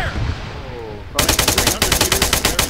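Rapid machine gun bursts in the military video game Arma, loud and close, a fast even string of shots following a quieter stretch of voice chatter.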